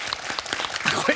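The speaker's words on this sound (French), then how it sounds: "Est-ce qu'on pourrait applaudir Pierre ce soir ?" Studio audience applauding contestant Pierre on the French TV quiz show Questions pour un Super Champion: brief, close, dense clapping with some voices, loud and steady.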